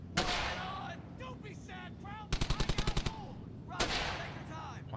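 Machine gun fire in the World War II shooter Brothers in Arms: Hell's Highway, with a sharp rapid burst of about eight evenly spaced shots midway, other loud gunshot cracks, and faint voices in the mix.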